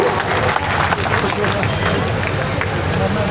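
A large crowd at a political rally in Qadian, Punjab, attended by Chief Minister Bhagwant Mann, claps loudly and steadily, a dense, continuous wash of applause with no breaks.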